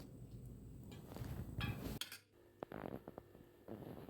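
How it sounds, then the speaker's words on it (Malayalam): Metal spoon clinking and scraping in a bowl while mixing spices with garam masala, a few sharp taps and stirring scrapes, close and fairly quiet. "എന്നിട്ടൊന്ന് സ്പൂൺ വെച്ച് നന്നായി ഒന്ന് മിക്സ് ചെയ്തെടുക്കാം."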